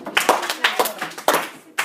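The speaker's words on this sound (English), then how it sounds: "if you're listening, clap 4 times" Listeners in a classroom-style talk clap in response to a prompt, a handful of sharp hand claps in small bursts, fairly close, with a voice briefly mixed in.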